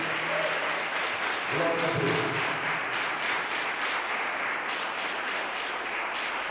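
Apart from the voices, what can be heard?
church congregation applauding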